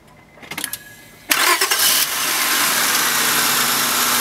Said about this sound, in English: I'm going to start the car up right now.